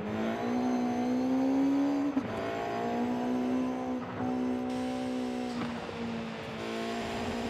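1997 Honda Civic Type R engine in Forza Horizon 5, a loud, close, high-revving four-cylinder wail that holds steady with brief dips at gear shifts, heard alone.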